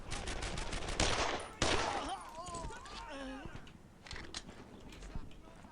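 Rapid, overlapping bursts of gunfire from the World War II shooter game Brothers in Arms: Earned in Blood during a firefight over a church, loud and dense at first and then thinning into scattered shots under faint voices.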